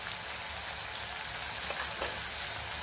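Asafoetida and turmeric sizzle in hot oil for a Kolhapuri paneer masala, a steady close frying hiss with faint crackles and no talking.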